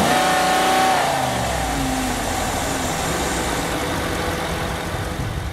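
A 2018 Ram 3500 truck's stock 6.4 Hemi V8 cranks and fires up, settling into a loud, deep, steady rumble close by.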